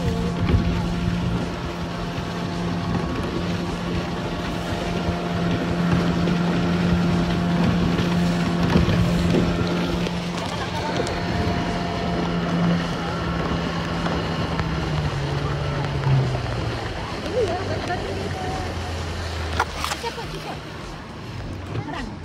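A boat engine drones steadily for a long stretch during an island-hopping trip at Pulau Pangkor, mixed with wind buffeting and occasional voices nearby.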